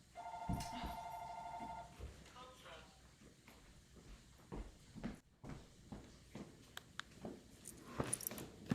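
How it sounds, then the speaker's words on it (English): A telephone rings briefly near the start, followed by scattered knocks and shuffling sounds with people talking quietly. "You sure that's not my telephone ringing?"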